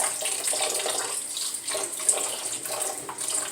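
Tap water runs steadily over ground meat being rinsed in a kitchen, a continuous close splashing hiss with small surges and one brief clink, no talk.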